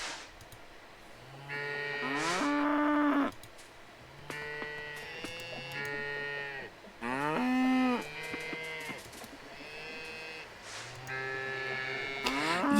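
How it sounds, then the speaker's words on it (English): Cows in the farming video game Coral Island moo several times in long, drawn-out, tonal calls, separated by short pauses. "cows! They all grew up!"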